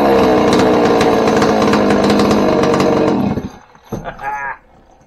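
Stihl 026 chainsaw with an aftermarket big bore kit and muffler mod, running loud and close at a high buzzing rev for about three seconds before cutting off, followed by a brief sputter.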